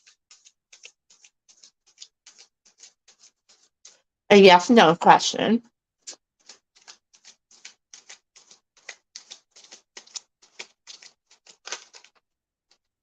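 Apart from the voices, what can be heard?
shuffling tarot cards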